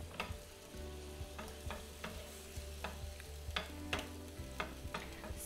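Food stirred around a frying pan with a wooden spoon, sharp scraping strokes in an uneven rhythm over a soft sizzle and a steady low hum, close and fairly quiet.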